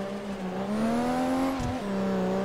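Race car engine in a racing video game at the Mondello circuit, holding a steady high drone that rises gradually, dips briefly as if shifting gear, then carries on loud and close with no talk.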